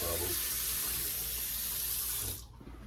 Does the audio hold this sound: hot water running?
yes